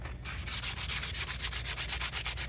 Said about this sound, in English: I am sanding this